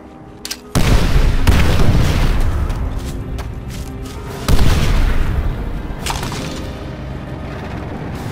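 Loud explosions and artillery fire in a Call of Duty: World at War campaign battle on Veteran difficulty. A sharp blast hits near the start and another heavy boom comes midway, each followed by a rumbling tail under steady combat noise.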